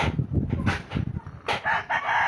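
Chickens clucking and squawking close by, a busy run of short calls with a louder, drawn-out cry toward the end.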